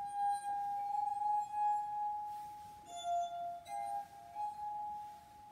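Drinking glasses partly filled with water ring out in clear, sustained tones when struck, a few separate clinks at slightly different pitches, each note lingering and fading before the next.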